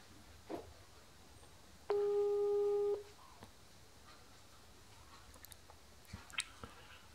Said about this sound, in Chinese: 现在拨号啊